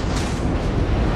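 Naval guns firing in a warship video game, producing a heavy, continuous blast of rumbling noise that fills the whole short moment at close range.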